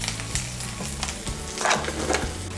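Ginger, garlic and green chilli paste frying in oil, a close, steady sizzle broken by several scraping stirs of a spatula, with no voices.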